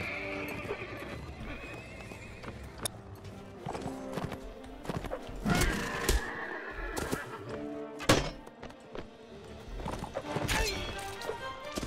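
Hundreds of horses in a large cavalry battle in a video game, with whinnies and neighs over dense, continuous hoofbeats, plus scattered crashes and thuds from the fighting. There is no talk.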